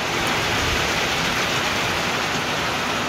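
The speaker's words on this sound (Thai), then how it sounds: "ฝนตกพี่น้องเอ้ย" Rain falls outside a small outdoor kitchen in a garage in Finland, a steady, fairly loud hiss of drops on surfaces, even and unbroken, with no talking.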